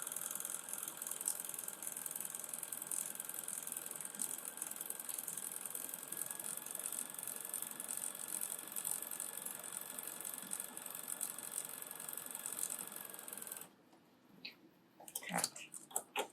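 A Bernina sewing machine stitches an automatic buttonhole with a steady, fast mechanical whir and ticking that runs unbroken for about thirteen seconds. It then stops, leaving a few faint handling clicks.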